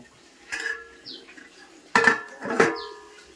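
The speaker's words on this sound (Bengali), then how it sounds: "এখন এভাবে করে এখন ঢেকে দিব বন্ধুরা" A metal lid clanks onto a cooking pot of hilsa fish curry with aubergine, several sharp clinks and rattles with a short ring, close and loud against a quiet kitchen.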